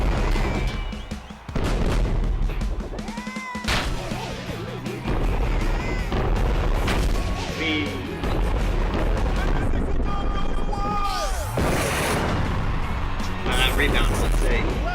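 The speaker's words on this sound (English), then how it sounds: "that gives me a bigger explosion when I make contact with the enemy" Explosions and blasts in a Jackbox Party Pack video game burst repeatedly in a loud, dense barrage, with voices talking over the game sounds.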